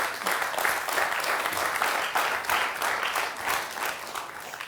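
An audience applauding, a dense steady patter of many hands clapping, sustained and fairly even, heard from within the hall.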